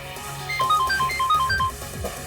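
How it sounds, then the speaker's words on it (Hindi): A bright, melodic phone ringtone plays a repeating pattern of electronic tones, loud and close, for a couple of seconds. "मेरा फोन बज रहा है।"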